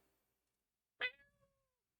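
A human voice imitates a single short cat meow, rising and then trailing off, heard alone against near silence.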